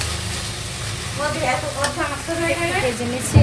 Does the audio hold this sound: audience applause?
no